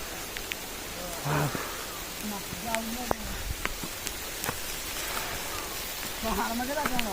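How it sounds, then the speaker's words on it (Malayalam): Rain falls steadily on a steep hillside trail, a soft, even hiss of drops with faint scattered taps and brief background sounds. "എഗെയിൻ മഴ പെയ്തുകൊണ്ടിരിക്കുന്നു"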